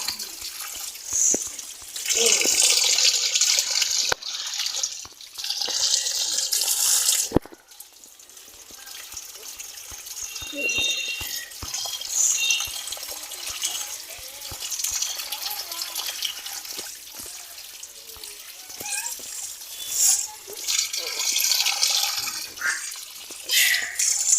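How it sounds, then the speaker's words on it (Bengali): Tap water runs and splashes in a sink while fish is washed by hand, gushing in bursts with short pauses and drips between, close by. "অনেক কয়েকবার ধুইছি মাছটা, কিন্তু এই মাছগুলো অনেক ধুইতে হয়।"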